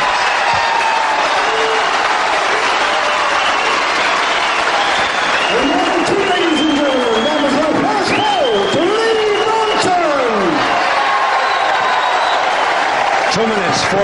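A wrestling crowd at a 1977 bout between Lee Bronson and Kendo Nagasaki applauds and cheers loudly and continuously, while a commentator talks over the din.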